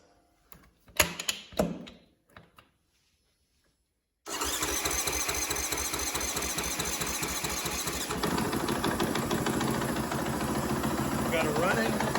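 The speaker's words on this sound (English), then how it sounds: "Let's hit the starter." A 2015 KTM 500 EXC motorcycle, fitted with a new Quantum fuel pump, gives a few clicks and short bursts of talk. The starter then fires the engine into a loud, close, steady idle that thickens as the revs rise slightly.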